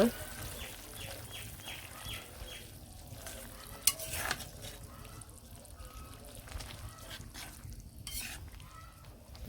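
A spoon stirs a simmering curry after coriander and cumin powder are added, with soft scraping and a light sizzle, plus a sharp clatter midway. Everything sounds faint and close in a quiet village kitchen.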